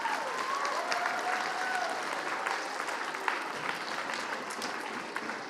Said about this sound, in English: give yourself a big round of applause for being so awesome